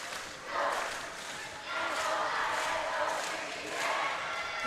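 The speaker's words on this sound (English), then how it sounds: "And the EJC crowd hyping their team" School crowd at a basketball semi-final cheering on Eunoia Junior College, rising and falling in loud swells of shouting and chanting roughly every second or two, with a commentator talking underneath.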